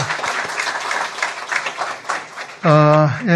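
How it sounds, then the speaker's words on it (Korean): Church congregation claps for the groom in a warm, steady round of applause lasting a few seconds, then a sustained organ-like tone cuts in near the end. "우리 미리 한번 축하의 박수 한번 보내겠습니다."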